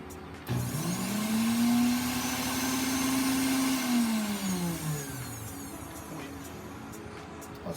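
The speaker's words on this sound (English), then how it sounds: "So we're gonna blend him up now." Blender grinding peanuts with water for Jamaican peanut and plantain porridge: a loud, steady motor whir that rises in pitch as it spins up, holds, then sags and slows near the end, running alone without talk.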